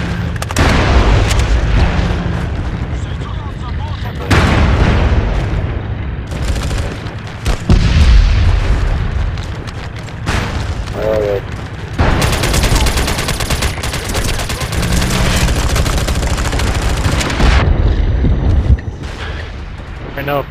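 Turret gunfire and explosions in the video game MAG during a Domination match, with loud, continuous rapid fire and booming blasts that go on with only brief dips.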